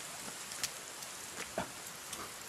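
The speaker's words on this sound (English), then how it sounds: "It's raining." Light rain in a forest falling steadily, faint with a few louder drops pattering on a surface.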